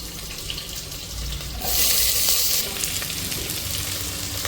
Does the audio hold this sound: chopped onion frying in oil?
yes